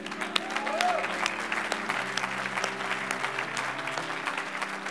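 Church congregation clapping together during an altar call, a dense, steady patter of many hands filling the room at moderate loudness, with a voice faintly audible underneath.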